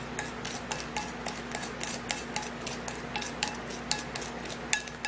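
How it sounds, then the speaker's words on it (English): Toothpaste paste ingredients being stirred together in a small dish, a steady run of quick scraping and tapping clicks from a utensil against the bowl, close and regular, with a faint hum underneath and no talk. "Now we're just going to be mixing all of the ingredients together to give us a fine and beautiful paste."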